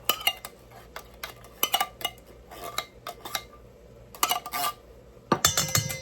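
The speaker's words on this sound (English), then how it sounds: "So I'm gonna put this can of cream of mushroom soup in here." Cream of mushroom soup scraped from a can into a bowl while cooking a hamburger potato casserole: a string of sharp metallic clinks and knocks of utensil against can and dish, in irregular bursts with quiet gaps.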